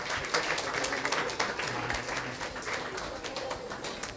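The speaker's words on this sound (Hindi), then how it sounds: "So I request all of you to clap for him." Audience clapping for a guest at a school academy's Independence Day program and prize distribution, a steady wash of applause from a room of people lasting several seconds, with some faint voices mixed in.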